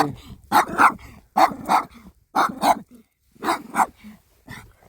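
A dog met on a countryside hike barks in short paired bursts, close and fairly loud, four clusters of yaps separated by brief pauses.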